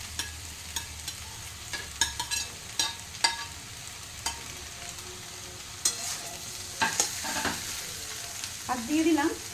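Sliced okra stirred and frying in a pan with green chillies, faint sizzle under scattered scraping clicks of a utensil, fairly quiet throughout with a few louder stirring bursts near the end.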